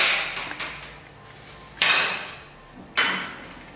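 A knife cuts an onion bulb into four pieces on a kitchen surface, giving a few sharp, close chops, with two distinct loud strikes near the end and quieter handling in between.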